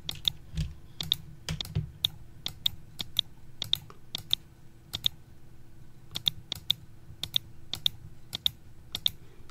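A computer mouse clicks while polygons are selected in Blender: sharp, isolated clicks in uneven bursts, close and distinct against a quiet room with a faint low hum.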